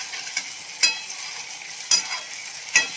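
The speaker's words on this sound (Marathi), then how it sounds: "भाजून घेते चांगलं, तेलामध्ये परते." Dried peas stir-fried in hot oil, a soft steady sizzle broken by three sharp spatula scrapes and clinks against the pan at irregular intervals.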